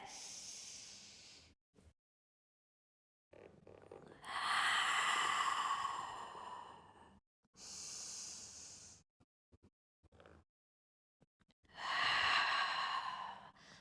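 Deep, slow breaths during a mat-level Pilates corset exercise: several long, close, airy exhalations, each a loud rushing hiss lasting a few seconds, separated by quiet pauses.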